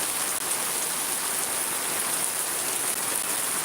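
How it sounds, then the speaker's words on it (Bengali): Steady rain falls in Shariatpur, Bangladesh, an even, soft hiss of drops on surfaces that carries on unbroken with no voices. "এই বৃষ্টি না থামবে অনেক দেরি হচ্ছে"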